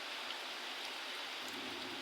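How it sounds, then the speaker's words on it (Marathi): Heavy rain pours steadily at the doorway of a house during a windy storm, with water flooding inside; a dense, continuous hiss of downpour fills the whole stretch with no voices. "तर भरपूर पाऊस आहे"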